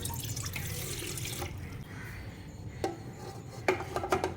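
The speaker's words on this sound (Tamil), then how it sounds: "இதில் நான் கொஞ்சம் தண்ணி ஊற்றிடுறேன்" Water runs and splashes steadily into a pot for about a second and a half, then quieter sloshing follows with a few sharp clinks of metal near the end.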